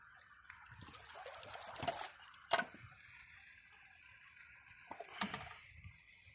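Water from a ram pump system gushes and trickles in faint, uneven bursts as the tank is pressurized, with sharp ticking knocks between the flows and no talk.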